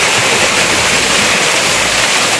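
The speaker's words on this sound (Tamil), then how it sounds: "பாருங்க நம்ம அந்த உயரத்துலேருந்து கொட்டிக்கிறது" Water pours down Ramiyanahalli Falls from a height, making a loud, constant broadband roar that fills the whole clip without pause, close by and uninterrupted.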